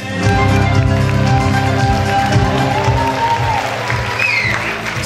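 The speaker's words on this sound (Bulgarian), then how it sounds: "те заслужават вашите бурни аплодисменти и вашата подкрепа през цялото време" Audience applause at the Momiche Lovech 2016 pageant, a steady, dense wash of clapping that holds loud for about five seconds, with tonal music running underneath.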